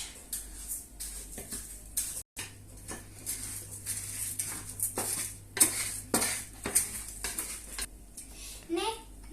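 Rice stirred in a pan with oil and garlic, a spoon scraping and clinking against the pan in irregular strokes with faint sizzling beneath, while a voice talks intermittently nearby.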